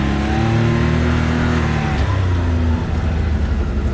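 A BMW X3 engine revs as throttle is applied while pulling away, a loud close mid-pitched rising drone with shifting tones over steady road rumble, no talk.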